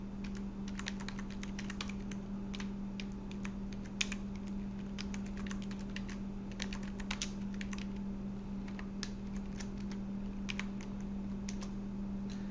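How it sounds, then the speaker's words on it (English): Steady typing on a computer keyboard, a dense run of light key clicks over a constant low electrical hum, with no talking. "So let's type it in."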